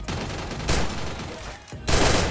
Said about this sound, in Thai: ต่างคนต่างยิงกันไม่โดนอะไรครับ